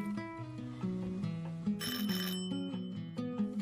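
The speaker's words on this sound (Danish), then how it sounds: "Så ringer det på døren." A doorbell rings in a home, a melodic sequence of ringing chime tones playing on alone and fairly quietly, with a brighter jingling burst midway.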